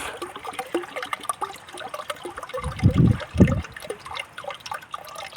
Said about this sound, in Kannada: ಆ ಲಿಕ್ವಿಡ್ನ 1 ಲೀಟ್ರ್ ಹಾಕೋಣ ಇದಕ್ಕೆ.